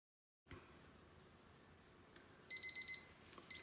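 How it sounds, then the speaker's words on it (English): A kitchen-style countdown timer goes off, a string of rapid high electronic beeps in two bursts, heard near and clear over a quiet room hiss. "our timer has beeped"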